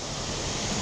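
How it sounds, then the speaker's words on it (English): River water rushes steadily near a dam, a broad continuous wash of noise at low level with no talk, lasting under a second. "There's the river"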